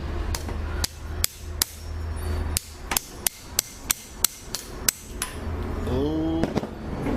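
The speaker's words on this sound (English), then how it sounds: "I basically hammered the chassis out of the pin" Sharp metal hammer strikes knock at a pin in a Trackmaster engine chassis, about a dozen loud taps in an uneven rhythm, with a brief squeaky whine near the end.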